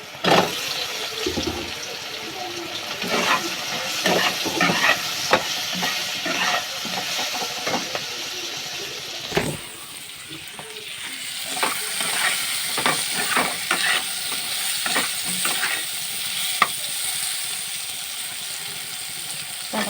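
Sliced eggplant drops into hot oil in a pan and sizzles loudly and steadily nearby, with scraping and stirring clatter throughout and a surge of crackling spatter partway through.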